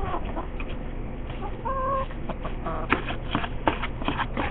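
Laying hens and other poultry clucking inside a coop on a cold night, a busy close chorus of clucks and short squawks with a brief higher call standing out over steady background noise.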